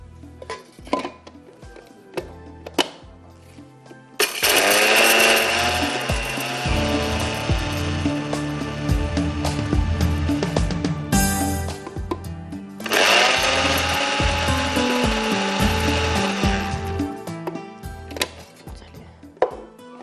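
A kitchen grinder pulverising lightly roasted cardamom and spices: two loud, close bursts of whirring motor and rattling grit, each several seconds long, separated by a brief pause, with short knocks and clicks before and after.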